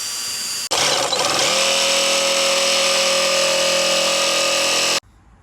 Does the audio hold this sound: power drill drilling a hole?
yes